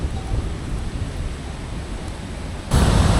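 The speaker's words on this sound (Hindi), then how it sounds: "बादलों की कड़कती हुई आवाज़ सुनाई दे रही है अभी सच में" Low rumbling thunder rolls from storm clouds over the mountains on the ManiMahesh Kailash Yatra trail, a broad continuous roar that swells suddenly louder near the end, with no voices.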